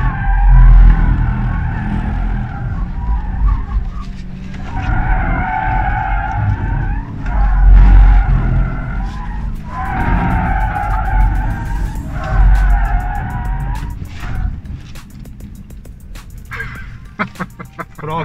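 A Ford Mustang Mach-E accelerating hard out of a corner, tyres squealing loudly in repeated sliding bursts with a rising electric whine, close and dominant, ending in a few sharp clicks.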